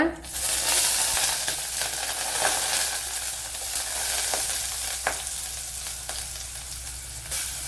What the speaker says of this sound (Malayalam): ഇനി ഇതിലേക്ക് അരച്ചു വെച്ചിരിക്കുന്ന കൂട്ട് ഇട്ട് കൊടുക്ക